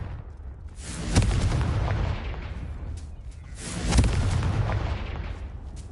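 Two heavy, booming blasts from the Confringo fire spell in the Hogwarts Legacy video game, each a sharp crack followed by a long rumbling roar, loud and close with no talking.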